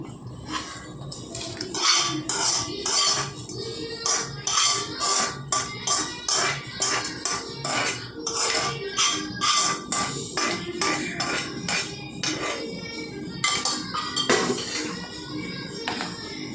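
A metal spoon clinks and scrapes rhythmically against a bowl while tempering is mixed into curd rice, the sharp taps coming in quick repeated bursts, close and clear.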